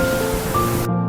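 A hidden waterfall near Muradbagh village in Ladakh's Drass Valley roars as a steady, loud rush of falling water, heard close and with no talking.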